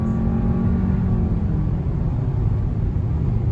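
A 2021 VW Jetta GLI Autobahn with DSG gearbox, driven through twisty curves in comfort mode, with a steady, moderate engine and road rumble from inside the cabin and a slight drop in engine pitch.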